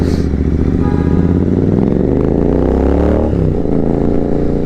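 A GT 650 motorcycle rides along a road, its engine thrumming steadily and loudly up close with a shift in pitch partway through.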